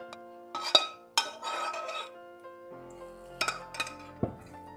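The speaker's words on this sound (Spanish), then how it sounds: "pongo todas las patatas y la cebolla en la bandeja de horno" Potatoes and onion are tipped into a metal oven tray, giving a few bright metallic clinks and clatters with scraping rustles between them, close up and with no speech.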